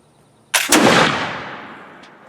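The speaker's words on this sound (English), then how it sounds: "Cock, and now we're ready to shoot." A flintlock muzzleloader fires a load of cut lead turkey shot outdoors: a brief ignition crack followed almost at once by a loud boom that rolls away in a long fading echo.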